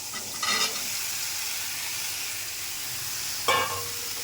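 Soybean chunks frying in a pan for a mixed vegetable dish, with a continuous close sizzle and hiss broken by two short bursts of stirring or added food.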